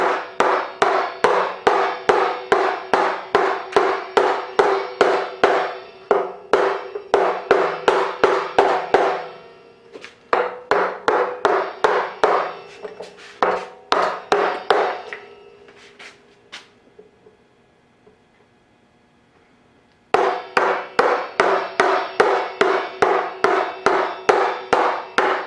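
A handmade wooden mallet, about forty years old, strikes a chisel into an elm bowl: close, steady rhythmic knocks in quick bursts, broken by pauses, with one near-silent gap before the pounding resumes.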